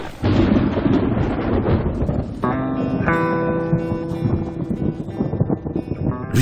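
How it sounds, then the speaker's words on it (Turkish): Heavy rain pours steadily with thunder rumbling through it, a dense, loud wash that swells with deep rolling booms, with no voices present. "Yağmura baksana. Bu yağmur da çok oluyor yani."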